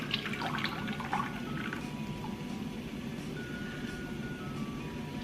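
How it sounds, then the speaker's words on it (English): Liquid pours and trickles into a double boiler pot while making crème brûlée, a soft steady splashing with a few brighter drips near the start. "Let's pour our liquid."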